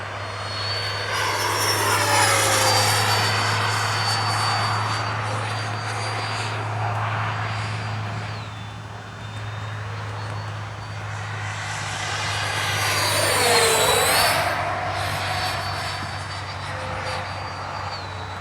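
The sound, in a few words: Freewing 90mm F-22 RC jet flying with afterburner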